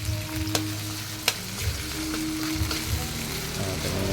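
Shrimp-paste side dish frying in a pan at home, sizzling steadily while being stirred, with occasional sharp clinks of a utensil against the pan.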